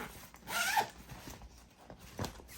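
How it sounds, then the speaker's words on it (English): A zipper runs closed on a garment travel bag packed with shirts, one quick rasping pull followed by a shorter tug a moment later, close and clear. "And so then you zip her up."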